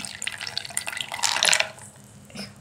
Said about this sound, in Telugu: ఇట్లా వాటర్ లేకుండా మొత్తం అయితే వంపేసుకోవాలండి.